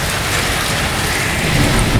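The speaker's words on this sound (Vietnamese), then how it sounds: "Bão đã chạm đất liền rồi đấy." Heavy rain from Typhoon Yagi lashes down in Ha Long with a steady, dense roar and gusting wind. Deep rumbling surges build near the end, and no one speaks.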